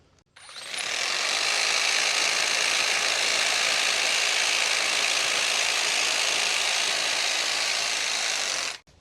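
A Ryobi hedge trimmer buzzes steadily as it cuts through hedge limbs outdoors. The loud, even motor drone starts up sharply, runs unbroken for about eight seconds and then cuts off, with no voices.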